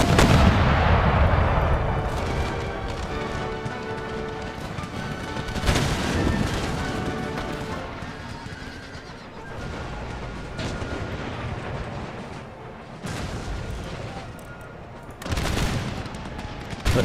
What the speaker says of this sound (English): Let's switch our mortars to explosive shot. And tear this Austrian army up.